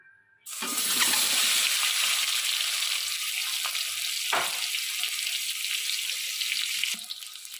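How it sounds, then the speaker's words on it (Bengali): Eggs drop into hot oil in a pan, and a loud hiss bursts in after a brief quiet moment, then holds as a steady broad sizzle until near the end. "এবার আমি এই তেলে ডিমগুলো ভেজে নেব"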